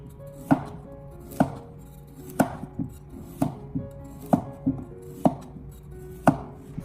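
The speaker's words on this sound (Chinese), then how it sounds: "紧接着我们再准备胡萝卜1根，同样的把它改刀切成小块" A knife chops a carrot into small pieces on a cutting board, with crisp, evenly spaced strokes about once a second, close and clear in a quiet room.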